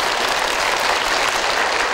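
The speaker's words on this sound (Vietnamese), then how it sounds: "Một tràng vỗ tay dành cho bạn Hải Yến." Studio audience on a game show breaks into loud, dense applause, continuous clapping from many hands filling the whole short moment without voices.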